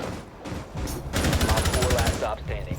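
Automatic gunfire in a Rainbow Six Siege match: short bursts open the clip, then a loud rapid string of shots follows, with voices faint underneath.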